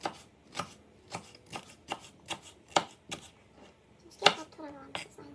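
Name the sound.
chopping bell peppers into thin strips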